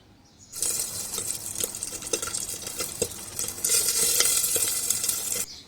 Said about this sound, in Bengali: ভুট্টা দেওয়ার পর আমি কিছুক্ষণ পরপর একটু একটু করে নাড়াচাড়া করে নিব।